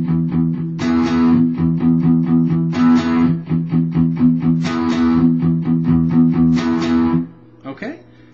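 Close, loud distorted electric guitar plays full chords, with tight muted chugs alternating with open strums struck twice, in a repeating rhythmic pattern that ends with the strings fading and a few faint noises.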